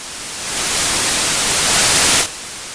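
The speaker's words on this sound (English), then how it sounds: "I've got some white noise going on there" Loud, hissing broadband noise swells up and holds steady, then abruptly drops to a quieter hiss near the end.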